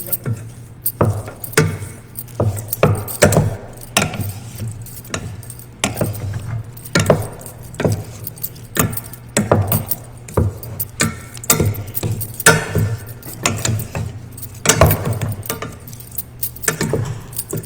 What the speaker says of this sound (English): like to mix my rice to be nice and It mixes very good evenly